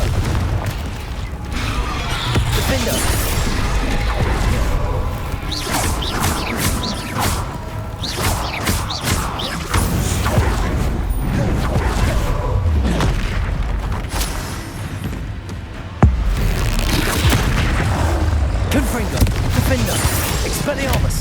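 Confringo spell explosions and combat effects in the Hogwarts Legacy video game: a dense, continuous run of booms, crashes and whooshes at steady loudness, with one sharper blast near the end.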